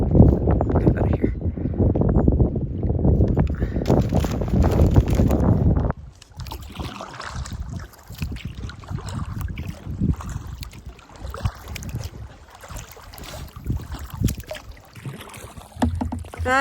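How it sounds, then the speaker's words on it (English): Solo kayak paddling on Kipawa Lake in Quebec, with a rhythmic swish of paddle strokes and wind buffeting the microphone at first, then quieter water sounds close by. "I'm just paddling along."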